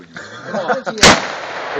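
A single sharp gunshot fired at a bottle cracks out loud and close midway, a sudden bang with a short decaying tail, preceded by quiet talk and movement.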